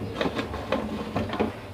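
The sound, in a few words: closing the pressure cooker lid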